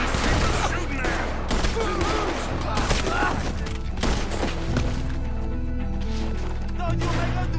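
Gunfire in the video game Red Dead Redemption 2 during a shootout, dense, loud volleys and bangs overlapping with heavy thuds, while characters talk over the fighting.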